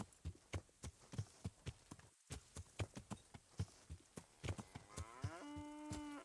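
Cattle in the medieval video game Kingdom Come Deliverance low with a steady, evenly spaced series of mooing calls, close and clear, ending in a sustained drawn-out note with no talk over it.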